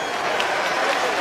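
A boxing arena crowd at a Nick Ball vs TJ Doheny fight roars and applauds steadily, a dense wash of cheering and clapping filling the whole moment without a break.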